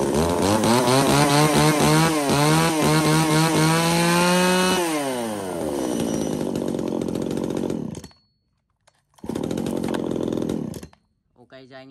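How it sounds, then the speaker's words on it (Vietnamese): A Maruyama chainsaw runs loud and close with a steady engine drone, dips in pitch as it is throttled down, then cuts out briefly before a short final burst. "con V3 này là một con máy cưa xích mang thương hiệu Marujama"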